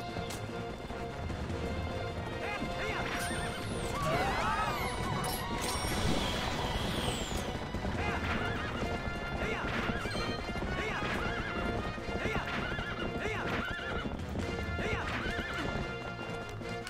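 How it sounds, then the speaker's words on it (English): A horse in Twilight Princess HD gallops with a loud, steady clip-clop rhythm and lets out a whinny early on, with clashing game sounds and some speech layered on top. "Now, get off the horse."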